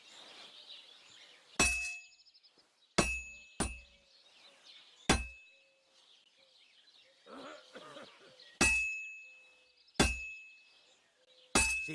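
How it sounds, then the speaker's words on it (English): In the Kingdom Come Deliverance 2 video game, a hammer strikes a sword on an anvil with seven sharp ringing clangs at irregular intervals, each leaving a metallic ring that decays, with faint background ambience between blows. "Now take the hammer and try hitting it a few times."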